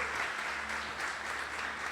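A church congregation claps together in a sustained round of applause during a Communion service, dense and even, filling the room throughout.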